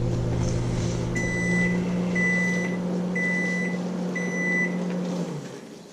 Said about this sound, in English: our marshmallow, which is in the microwave. I just turned that on.